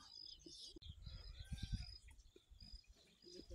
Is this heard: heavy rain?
no